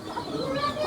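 A broody hen gives a brief, low clucking murmur close by, under less than a second of soft farmyard background.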